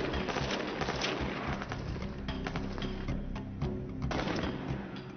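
Rapid bursts of M16 rifle fire during field trials, a dense run of sharp overlapping shots heard at a distance, steady throughout with no pause in the firing.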